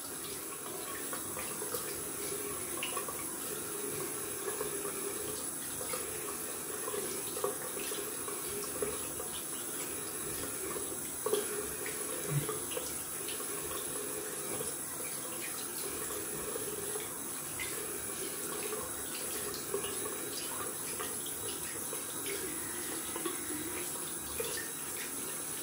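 Tap water runs steadily into a sink while the face is wetted before a shave with a Gillette Slim adjustable safety razor at a vintage barbershop, a continuous hissing splash with no talk.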